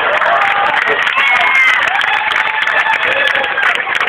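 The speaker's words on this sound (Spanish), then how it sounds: "Y los pinches aplausos." Dense, continuous applause fills a comedy show audience, loud and close, with a crowd murmur mixed into the clapping.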